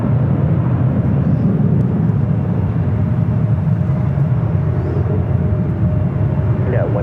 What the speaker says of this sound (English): Got a American A321 now rolling down at 24 left.